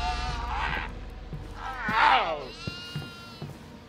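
A goat in the horror game Devour lets out harsh, wavering bleating screams, two loud cries rising and falling, with a person talking over the scene and soft knocks underneath.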